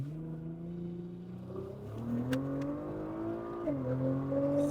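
Engine of a Nissan GT-R R35 blipping and downshifting through paddle-shifted gears in manual mode, a loud steady drone whose pitch steps up twice with each downshift, heard from inside the car on the road.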